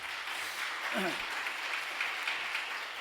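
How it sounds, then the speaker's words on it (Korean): An audience at a regular meeting in a Presbyterian church hall applauds in an even, continuous patter of clapping, with a brief voice murmuring near the middle. "두 분께 다시 한번 박수 부탁드립니다"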